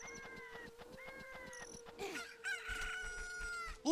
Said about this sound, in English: Look, a cuckoo hatched from the egg you were incubating.